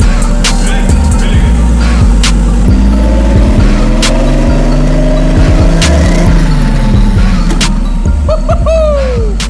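An RB26 engine swapped into a Subaru WRX cranks and fires up, then revs loudly in rising and falling bursts, running continuously close by with a few sharp clicks and knocks.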